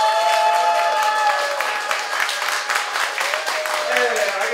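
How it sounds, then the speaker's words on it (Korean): At a church Christmas celebration performance, a congregation breaks into loud sustained applause lasting several seconds, with some voices mixed in under the clapping. "박수!"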